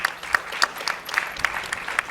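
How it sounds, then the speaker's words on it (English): An audience at a Change of Guard event claps for a group of women, a scattered but lively round of applause with distinct individual hand claps, moderately loud and without talk. "Let's give a great round of applause to these wonderful women."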